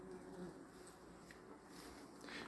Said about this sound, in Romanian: Acum nu vă mai feriți de albine, vă feriți de viespi.